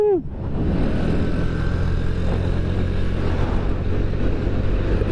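A Honda Scoopy scooter engine drones steadily and loudly at close range while accelerating along a straight track, a constant motor hum after a brief rising tone at the start.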